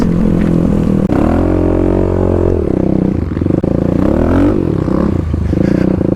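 A Kawasaki KLX351 dirt bike does a burnout, its engine revving hard and loud up close, pitch climbing and dipping across repeated throttle blips, with scraping and clatter mixed in.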